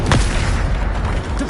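Booming blast of a Bombarda blasting spell in a Harry Potter video game, a dense, loud low rumble that fills the moment with a sharp onset near the start.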